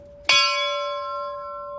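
A single memorial bell struck once at a remembrance ceremony for fallen soldiers in a square in Odesa, with a clear metallic strike and a long, steady ringing tone that hangs on without fading.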